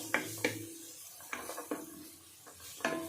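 Pasta with garam masala being stirred in a pan, a few distinct scraping and clinking strokes of a spoon against the pan over a faint sizzle, close and fairly quiet.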